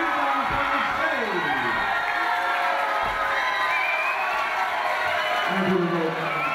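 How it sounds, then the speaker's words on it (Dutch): An audience cheers and applauds the winning contestant of a quiz final, a dense, sustained roar of clapping and shouting voices with a person speaking over it throughout. "Hartelijk warm applaus voor de dame die hier heeft geslaagd."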